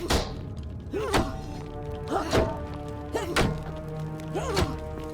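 Kicking impacts in The Forgotten City: four heavy thuds fall at roughly one-second intervals, each with a short rising swoosh before it, over a faint sustained tonal background.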